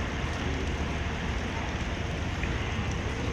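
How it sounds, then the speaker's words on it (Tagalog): Heavy, unbroken rain at a ship boarding area, a steady, moderately faint hiss and patter with a low rumble underneath, continuous throughout. "Ulan, walang tigil."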